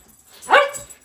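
A hyped-up dog gives a single close, loud bark as it waits to fetch its ball, set against an otherwise quiet background.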